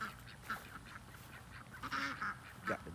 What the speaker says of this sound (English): Got the ducks, the birds.